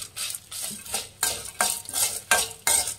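A spoon scrapes and stirs roasted spices in a pan for sambar powder, giving rhythmic scraping strokes about every half second, close and clear with no talking.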